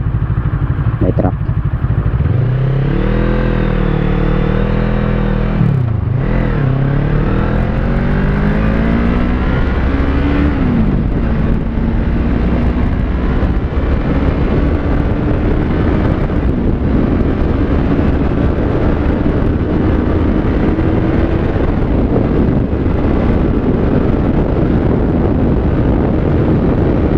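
An FKM Falcon X400 motorcycle accelerates hard toward top speed, its engine whine climbing and dipping through several gear changes over heavy, constant wind rush, loud and close from the rider's position.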